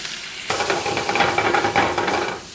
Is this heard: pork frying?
yes